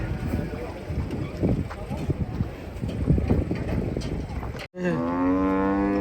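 Cattle being unloaded from a truck moo loudly and close by, a long drawn-out low call at the end standing clear after a brief gap, with people chattering and wind buffeting the microphone throughout.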